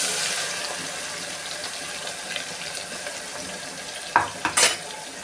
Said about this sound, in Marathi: आपण जे मिक्सरमध्ये वाटलेलं होतं ते वाटण आता तेलात घालायचं